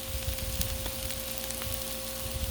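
Chopped onion and fried rice sizzle on a Blackstone griddle in a steady, close, crackling hiss with a few scrapes. No one talks.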